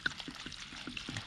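Water is poured slowly over salted ingredients while preparing homemade red wine, a faint, uneven trickle with small splashes repeating at a gentle rhythm.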